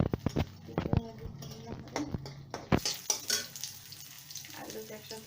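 Peanuts roasting in a pan while cooking oats upma, with intermittent stirring scrapes and light sizzling, close and moderately loud, while a voice talks over it.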